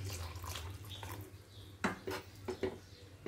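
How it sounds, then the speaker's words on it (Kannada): A glass of water goes into a pot of Bangalore-style drumstick sambar with lentils, then a few metal clinks against the pot, soft splashing and light stirring, close by and fairly quiet with no talking. "ಈಗ ಇದಕ್ಕೆ ಇನ್ನೊಂದು ಗ್ಲಾಸ್ ವಾಟರ್ ಹಾಕ್ಕೊಳ್ಳೋಣ"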